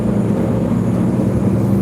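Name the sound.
bus engine and road noise from inside a moving bus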